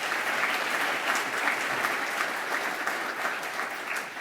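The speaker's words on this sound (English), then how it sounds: "Let's all give them a big round of applause." Audience at a Walton County Chamber of Commerce meeting giving a sustained round of applause, dense and even clapping from many hands throughout, fairly loud and close.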